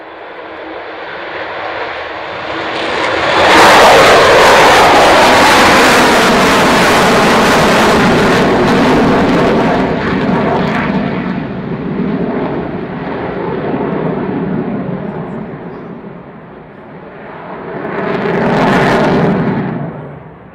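A Vulcan bomber flies past at the Royal International Air Tattoo, its loud jet roar swelling over several seconds, fading, then surging again near the end.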